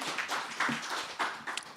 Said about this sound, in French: Merci beaucoup à nos invités. On peut les applaudir.